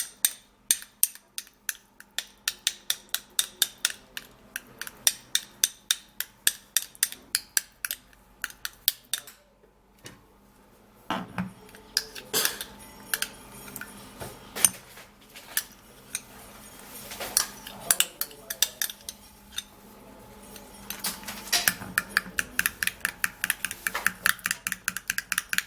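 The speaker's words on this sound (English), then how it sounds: "now I would have to mash the avocado for it to be very soft" Fork tapping and scraping against a bowl while mashing an avocado, quick rhythmic clicks in bursts separated by brief pauses, close and fairly crisp, with no talking.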